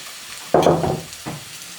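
Greens being stirred through food in a pan: a short burst of scraping and sizzling stirring, then a fainter second stir, close and moderately loud with no talk.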